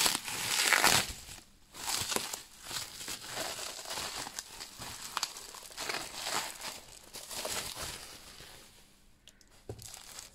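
Paper packaging crinkles and rustles in close, intermittent bursts as it is unwrapped by hand, soft and delicate with brief pauses between handlings.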